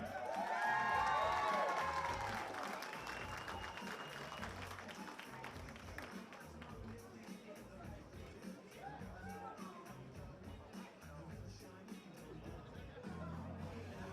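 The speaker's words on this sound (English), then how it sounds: "I want a big round of applause" An audience at a masters weightlifting competition applauds a medal winner, a loud burst of clapping and cheering that quickly fades into a lower, steady crowd murmur with scattered claps and voices.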